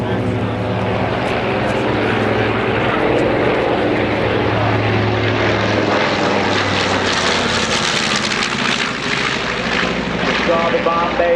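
A B-25 bomber flies past at an airshow, its propeller engines roaring loud and steady, the drone swelling and shifting in pitch as it passes, with crowd and announcer voices underneath.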